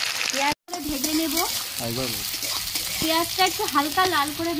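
Sliced onions sizzle steadily in hot oil in a pan, just after small kachki fish were fried in it, a bright continuous crackle at close range with a voice talking over it.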